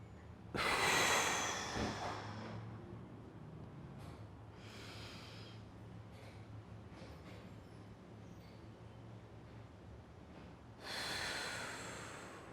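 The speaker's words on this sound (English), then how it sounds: "Deep breathing." Deep, slow breathing during a public speaking exercise, with a strong inhale near the start, a held pause of quiet room tone, and a second breath toward the end, close and clear with no talking.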